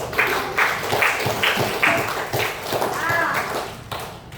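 Classroom applause for children during a lesson, heard as a short run of rhythmic, evenly spaced claps at close range, with voices talking over them.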